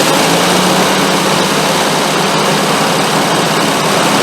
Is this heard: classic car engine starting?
yes